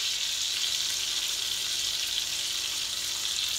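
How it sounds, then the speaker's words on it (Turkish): Sardines frying in a pan of hot oil, giving off a steady, bright hissing sizzle that stays even and close throughout. "Bunlar iyice kızarmaya devam ediyor."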